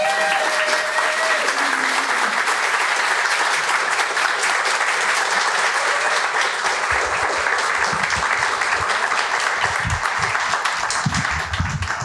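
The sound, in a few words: audience applause for a storyteller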